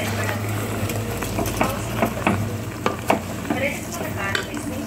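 Rice tossed with masala in a hot pan for homemade mushroom biryani, with repeated scraping stir strokes over a constant close sizzle.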